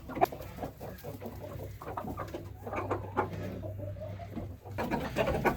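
Chickens cluck and murmur close by in a continuous, irregular stream of short calls.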